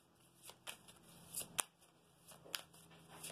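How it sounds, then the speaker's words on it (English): Tarot cards being shuffled by hand, giving a few brief papery riffles and snaps spread over a few seconds, close and fairly quiet, with no talking. "let me go ahead and shuffle the cards here"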